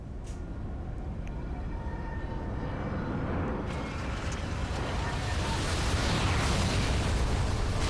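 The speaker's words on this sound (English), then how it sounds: "Everyone in the ship went kaboom" In the Final Fantasy 12 video game, a ship explodes in a long, roaring blast that swells and rumbles, growing louder toward the end and holding steady without any speech over it.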